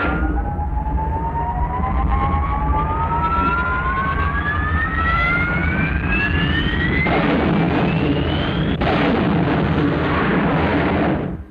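A jet aircraft taking off in an animated series, a loud, continuous engine roar with a whine that climbs steadily in pitch, close and sustained throughout before cutting off abruptly at the end.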